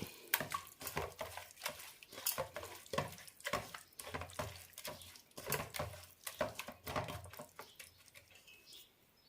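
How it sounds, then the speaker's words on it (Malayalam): Besan pakoda batter with salt, sunflower oil and water is mixed in a bowl, giving a steady run of close, sharp scraping and clinking strokes in an irregular rhythm, fading slightly toward the end. "നന്നായി മിക്സ് ചെയ്യാം"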